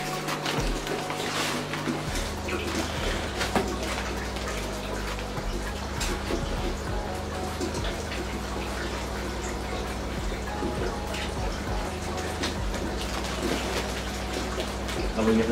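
Water runs steadily while a discus fish tank is drained in a pet shop, a continuous close splashing wash with a low mechanical hum underneath and faint voices.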